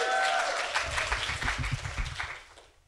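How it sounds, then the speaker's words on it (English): An audience at an arts-and-peace event gives a round of applause, a full, close crowd of clapping that holds steady and then tapers off to silence. "Let's give one more round of applause."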